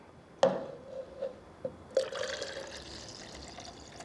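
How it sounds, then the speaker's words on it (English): Water pours into a cup of lemonade in a kitchen, a few short splashy bursts and a gurgling fill with small drips, close and fairly quiet. "And just pour water until you get the yellow that you like your lemonade to be."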